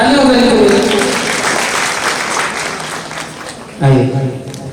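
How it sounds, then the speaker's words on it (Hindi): Audience applause at a Himachal talent show fills most of the stretch as steady broadband clapping that fades slightly, with talk mixed in and a voice starting near the end. "धन्यवाद। तालियां बजाएं।"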